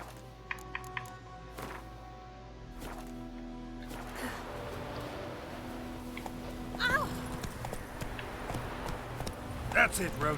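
Hooves clip-clop at a steady gallop as a horse runs in The Witcher 3 video game, mixed with music and ambient game sound, with short bursts of spoken game dialogue over it.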